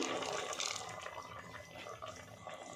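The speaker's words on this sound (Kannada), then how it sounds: "ಈಗ ಸ್ವಲ್ಪ ಇದಕ್ಕೆ ನೀರು ಹಾಕ್ತಾ ಇದ್ದೀನಿ" Steady, splashy stream of water pouring into a cooking pot of ground coconut paste, continuous and fairly close, with no talking over it.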